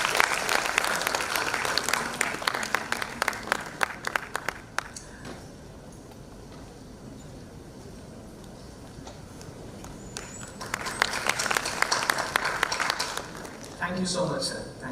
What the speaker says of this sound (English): Could we have a round of applause for Dr.